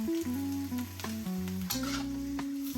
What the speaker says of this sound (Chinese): 然后继续翻炒，均匀入味。